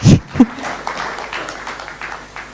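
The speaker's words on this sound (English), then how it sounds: "maybe we can give them some small round of applause" A small round of applause from a conference audience at a LibreOffice on KDE Plasma talk, fairly close and moderately loud, with a couple of sharper claps at the start before settling into a steady patter.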